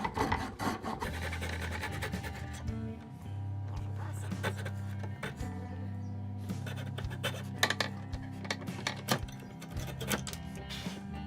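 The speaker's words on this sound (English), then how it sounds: "I can go ahead and get rid of these with my coping saw." A coping saw cuts wood from a broken guitar headstock on an Epiphone Dot, giving a close, steady rasping stroke repeated throughout, with occasional knocks and a faint voice in the background.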